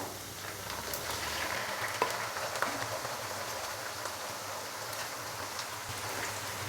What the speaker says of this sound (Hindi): तो अभी मैं इसके अंदर मैरिनेट किया हुआ चिकन डालूंगा।